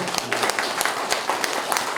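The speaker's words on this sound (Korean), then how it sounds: "박수 부탁드리겠습니다" An audience at a Korean book event for a photo sijo collection claps. The applause is moderately loud and continuous, with individual claps standing out from the crowd throughout.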